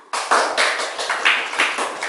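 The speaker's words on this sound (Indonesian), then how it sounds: "Tepuk tangan untuk semuanya." Classroom students clap together for about two seconds, a close, lively run of quick claps with a slightly pulsing rhythm.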